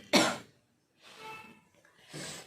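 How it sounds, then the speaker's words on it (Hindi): A person with hiccups coughing, one sharp harsh cough up close followed by two softer breathy coughs or throat sounds in a quiet room. "हिचकी के साथ खांसी भी आ गई।"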